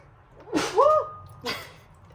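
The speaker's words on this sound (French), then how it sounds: "Je vais éternuer, désolée." A single sudden sneeze with a sharp breathy burst and a short voiced catch, followed by a quick exhale, close and moderately loud.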